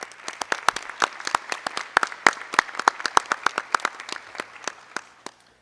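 A small audience at a school board meeting applauding students, sparse individual claps ringing out in a loose, uneven rhythm, fairly close and moderately loud, thinning out toward the end.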